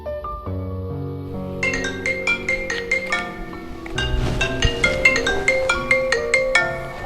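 A phone rings with a melodic ringtone, a low sustained intro and then bright repeating plucked notes that carry on steadily and fairly loud, with no talking.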